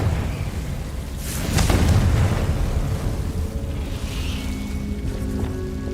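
A Confringo fire spell bursts in Hogwarts Legacy: a loud blast followed by a rumbling, crackling roar that fades slowly over several seconds.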